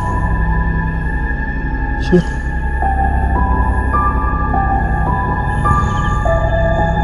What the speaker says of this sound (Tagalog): Yung huni ng kulisap.